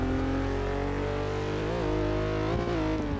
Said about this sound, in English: I think that's the Voodoo engine